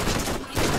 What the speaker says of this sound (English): I do like this SMG a whole lot. Especially the good hip fire is just kind of handy.